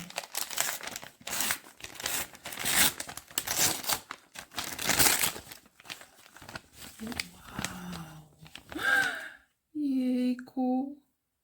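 Paper crinkling and tearing as a Christmas advent calendar window is opened, close and rustly for several seconds before someone speaks briefly.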